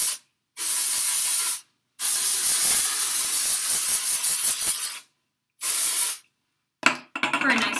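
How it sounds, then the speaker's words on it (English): Can of dry shampoo sprayed into hair in several bursts, each a loud close hiss lasting about a second or more, separated by short silences, with a brief clatter of handling at the end. "So I do need the dry shampoo. So I'm going to go ahead and just spray some in right now."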